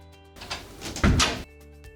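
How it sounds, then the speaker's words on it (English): A door being closed indoors, a short burst of handling and a firm thud near the middle, close and fairly loud, with quiet background hum on either side. "Will you please remember to close the door?"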